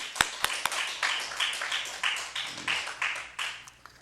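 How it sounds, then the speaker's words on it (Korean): A church congregation claps together in a quick, even rhythm, around a dozen crisp beats in a row. The claps sound fairly close and loud, with no talk over them. "다시 한번 하나님께 영광의 박수 돌리겠습니다."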